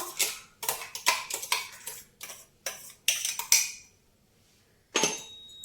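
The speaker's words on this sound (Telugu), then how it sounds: "ఇప్పుడు ఇది గిన్నెలో తీసేసుకొని" A spoon taps and scrapes a bowl as ground mixed vegetable chutney is scooped in, a close series of sharp clinks in quick irregular bursts, then a pause and one last clatter, with no talking.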